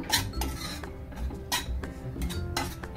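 Garden cress and flax seeds are dry-roasted in a pan, with a spatula scraping and stirring them in repeated gritty strokes about every second, close up and moderately quiet.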